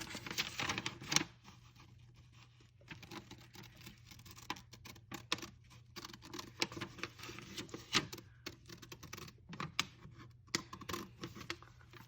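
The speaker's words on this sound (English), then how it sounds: "we need to cut that out from the instruction manual" Paper being cut out of an instruction manual with scissors, soft irregular snips and rustles, quiet and close, coming in uneven clusters.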